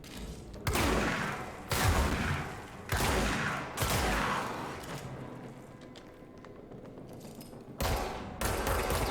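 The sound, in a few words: shotgun fire in video game Control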